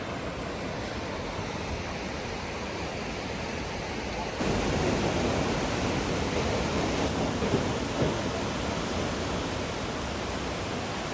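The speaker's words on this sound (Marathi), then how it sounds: "बघा ह्या रिव्हरचा नजारा" Steady, loud roar of a rushing mountain river on the Gangtok to Lachung route, heard by a bridge, a continuous broadband wash that swells slightly louder partway through.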